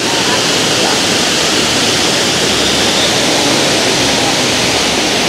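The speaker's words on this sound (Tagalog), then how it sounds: "ito yung falls dito sa Puerto Galera" A tall waterfall at Puerto Galera, Oriental Mindoro, roars as a loud, dense, unbroken rush of falling water heard up close.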